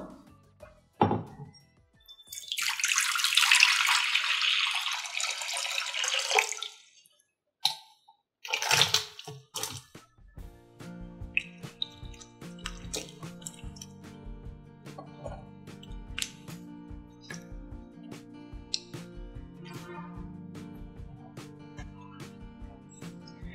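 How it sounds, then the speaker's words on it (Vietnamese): A bowl of water is poured out with a rushing splash, then straw mushrooms are rinsed by hand with dripping water, followed by many close clattering knocks and scrapes of bowl and basket in a kitchen, no talk. "Rồi mình sẽ đổ cái tô nước này đi. Và mình rửa thêm một lần nữa."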